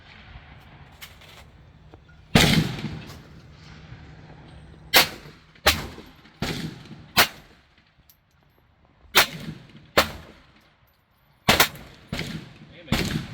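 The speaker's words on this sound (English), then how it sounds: "100-year-old pistol." Shots from a 100-year-old 1903 Colt .32 auto pistol fired outdoors, nine or ten sharp, loud cracks spaced irregularly about a second apart, with faint background noise between them.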